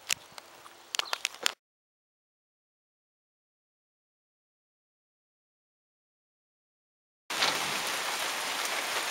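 Steady rain falls on an Ontario garden in two bursts separated by a long silent gap, the second stretch a dense, even hiss of heavy rainfall.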